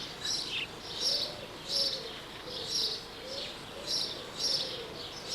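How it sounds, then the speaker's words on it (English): House sparrows chirp in repeated bright bursts roughly every second, a busy chattering flock over a steady outdoor hum. "House sparrows are gregarious and very noisy"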